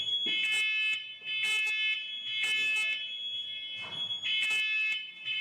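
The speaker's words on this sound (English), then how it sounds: "the fire alarm starts going off in the house" A house fire alarm shrills loudly in a steady, high-pitched pulsing pattern of repeated beeps that dominates throughout, with muffled background activity underneath.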